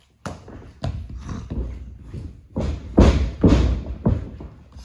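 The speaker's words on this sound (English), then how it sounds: "I threw a shoe at him just now, so that's what all that noise was." A shoe thrown at a person, heard as a string of heavy, irregular thuds and knocks that land close by at uneven intervals, with nobody talking.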